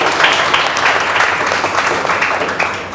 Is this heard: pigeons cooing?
no